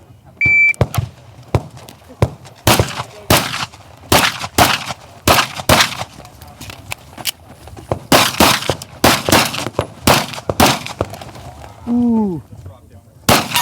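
Sharp gunshots ring out one after another on an outdoor range, some landing on steel targets, fired in loud irregular bursts with a few short pauses, while a person speaks briefly between shots.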